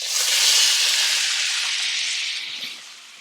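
Shrimp hit a pan on medium-high heat with a loud, steady sizzling hiss that slowly eases and fades toward the end.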